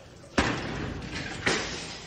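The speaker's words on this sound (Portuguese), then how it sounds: "Olha o momento em que o morador quebra a vidraça com uma cadeira." During a house fire rescue, a chair smashes window glass in two sharp, loud crashes about a second apart, each with a short bright shattering tail over background noise.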